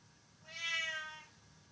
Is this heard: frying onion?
no